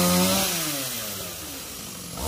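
A chainsaw cuts a small mù u tree tangled near power lines in a garden. A single loud, close engine whine drops in pitch as it bogs down and then starts to rise again at the end.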